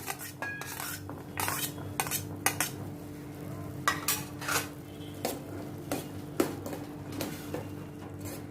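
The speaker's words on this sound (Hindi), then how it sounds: "इन सभी को अच्छी तरह से मैं मिक्स करती हूँ।" A utensil scrapes and knocks against a pan while tomatoes, green peas and chopped carrots are stirred together, giving irregular metallic clinks over a soft, low sizzle.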